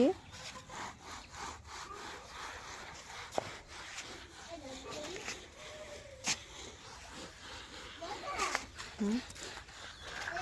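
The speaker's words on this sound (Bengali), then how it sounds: "এরা দুইজন একই সাথে ডাল ঘষছে দেখেন ডালটা এবার আমরা ঘষছি" Soaked lentils rubbed by hand on a grinding stone in a village household, a rhythmic gritty scraping repeating back and forth at close range, with people talking quietly over it.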